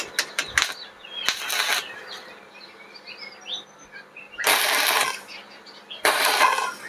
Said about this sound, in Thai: แล้วเราก็เชื่อมมา แท้ไว้ก่อนสักสักสองจุด